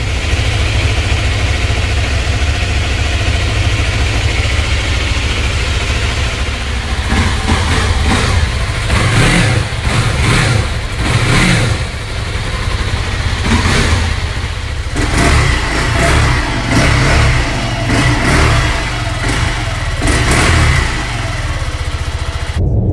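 A car engine idles roughly on a cold start, then revs up in several short bursts that rise and fall, loud and close, with no talking.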